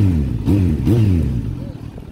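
A Kawasaki Z900 motorcycle with a cheap Chinese aftermarket exhaust slip-on, stock catalytic converter still fitted, revs up loudly at close range in two quick rising blips before settling back to a throaty idle.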